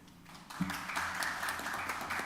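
A room full of people applauds a judge during a court judgment session. The clapping is soft and distant, rising after a quiet start and holding as a steady patter.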